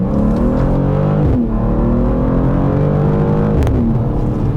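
Latest BMW M2 engine revving hard under acceleration, a loud close rumbling roar with rising pitch, broken by two quick gear-change dips before it climbs again, heard with no voice.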